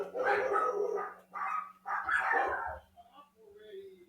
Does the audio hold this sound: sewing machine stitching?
no